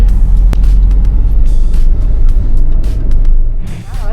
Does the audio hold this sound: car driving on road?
yes